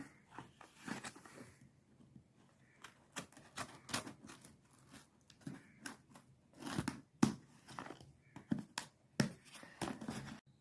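An Amazon package holding LED cork lights is opened in a kitchen, giving a string of sharp crinkling, tearing and snipping sounds in uneven bursts, close and fairly quiet, with no talking.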